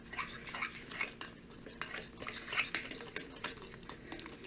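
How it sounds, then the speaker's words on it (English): A spoon stirs pumpkin strudel donut batter in a bowl, making quiet, close scraping and clinking strokes in an uneven rhythm with brief pauses between them. "I'm going to give this a good mix."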